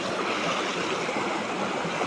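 A cold stream runs higher than usual, its water rushing in an even, continuous wash of sound that never pauses.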